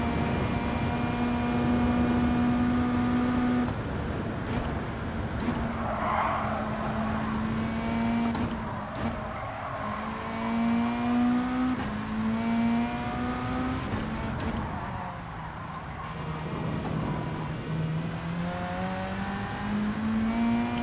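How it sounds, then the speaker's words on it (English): A race car engine in Gran Turismo 7 revs high and shifts up through the gears, its loud whine climbing, dropping and climbing again over several shifts, with the rumble of other cars nearby. "Have a chance to rev it out along the end."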